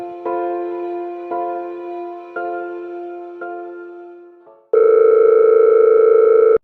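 A telephone rings with a repeating tonal chime that sounds several times and fades, then a steady electronic tone holds loud and close, with no voices.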